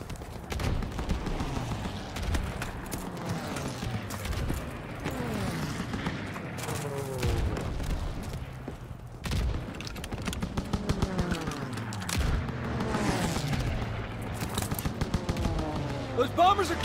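Rapid gunfire and anti-aircraft flak bursts from Call of Duty WW2 during the Operation Cobra breakout from Normandy, rattling continuously under shouted voices and swooping sounds of attacking bombers.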